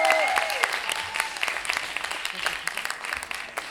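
Audience applause at a slam poetry tournament in Lyon, a dense wash of clapping that starts loud and gradually thins over a few seconds, with a faint tonal sound early on.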